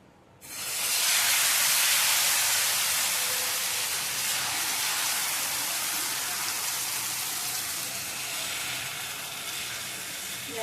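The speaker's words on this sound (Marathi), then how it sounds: "आता पळीच्या सहाय्याने आपण मिश्रण टाकून घ्यायचं आहे।" Wheat flour batter ladled onto a hot oiled pan, bursting into a loud, steady sizzle that starts abruptly and hisses on evenly, fading only slightly, with no talk.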